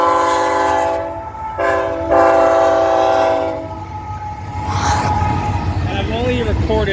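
CP freight train passing at Maple Creek, Saskatchewan, its horn sounding in several long blasts over the rumble and rail clatter of the cars, loud and fairly close.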